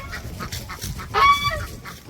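A goose on a farm gives a loud, brief honk partway through, set against a low clattering yard background with other faint bird calls.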